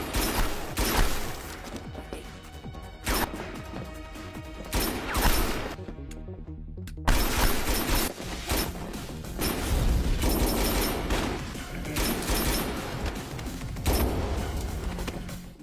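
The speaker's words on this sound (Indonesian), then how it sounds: "Yuri datang dan mulai menembak." An action film fight scene fills with gunfire: repeated loud bursts and volleys of shots arrive in clusters, with crashes and impacts between them, a brief near-silent gap midway, and then a dense barrage.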